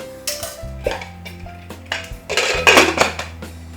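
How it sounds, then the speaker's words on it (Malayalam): Metal utensils scrape and clank against a cooking pot in irregular bursts as tapioca is stirred into mutton biryani, with louder clattering toward the end. "കപ്പ ഇതിലോട്ടിട്ട് ഇതേപോലെ ഒന്ന് ഇളക്കി കൊടുക്കുക"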